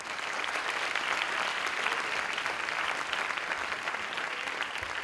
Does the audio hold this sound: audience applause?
yes